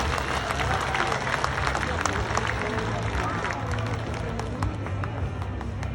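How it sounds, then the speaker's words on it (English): A crowd at a theme park animal show on the Fourth of July applauds steadily, a full wash of clapping with some cheering and crowd murmur mixed in, moderately loud from start to finish. "Let's give her a big round of applause."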